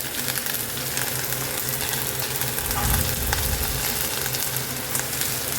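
Prawns and mourala fish start cooking in a hot pan, giving a dense, continuous sizzle and spatter, close and loud, with a soft low thump midway and no one talking.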